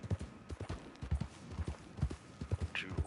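Horse hooves clip-clop in the video game Red Dead Online, a close, steady rhythmic trot of evenly spaced thuds with no talking over it.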